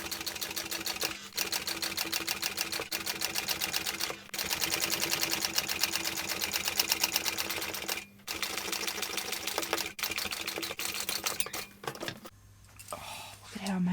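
A sewing machine runs in several long bursts of rapid, even stitching while topstitching a fabric bag, with short pauses between runs and a soft voice near the end.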